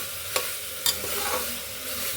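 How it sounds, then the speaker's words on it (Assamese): Banana stem pieces frying and being stirred in a pan, a steady soft sizzle with two sharp scraping stirs near the start, close and alone. "কলপাতৰ ঠাৰি ভাজিছে, খুব ধুনীয়া গোন্ধ হৈ গৈছে।"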